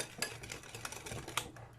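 Cake batter with olive oil is stirred in a bowl: faint, soft scraping and clinking of a utensil against the bowl repeats in an uneven rhythm.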